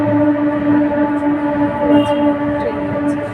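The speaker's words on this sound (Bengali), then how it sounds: "দেখো ট্রেনের আওয়াজ হচ্ছে, ট্রেন যাচ্ছে" A train passes by in the evening, a steady rumble carrying sustained horn-like tones that hold at an even loudness throughout.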